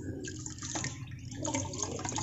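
Liquid yeast trickles and splashes into a small Moina culture container, with soft close pouring and dripping sounds that come and go in short uneven spurts.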